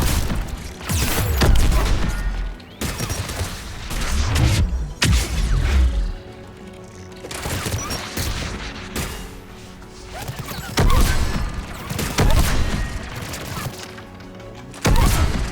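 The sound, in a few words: spike thrower gunfire in video game Mass Effect 3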